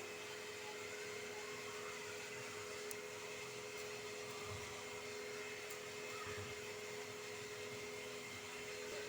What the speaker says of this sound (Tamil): இந்த வாழைப்பழத்தை நல்லா அரைச்சி எடுத்துக்கலாங்க